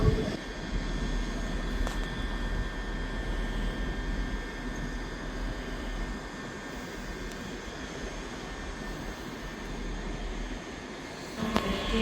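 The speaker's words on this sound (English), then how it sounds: "Arriving in now is the 12:27 Scotrail service terminating here at Edinburgh Waverley from Dunblane." A ScotRail class 385 train rolls into Edinburgh Waverley station with a steady low rumble and broad hiss, moderately faint, and a couple of brief clunks near the end.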